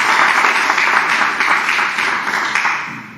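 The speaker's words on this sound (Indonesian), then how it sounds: "tepuk tangan buat Anda semua" A large audience at a group learning session claps steadily and loudly for about three seconds, a dense, even wash of hands that tapers slightly at the close.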